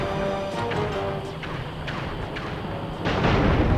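A suicide bomber enemy blows up in the Sly Cooper 3 video game, a dense rumbling blast with scattered booms and thuds, loud and sustained, swelling again near the end.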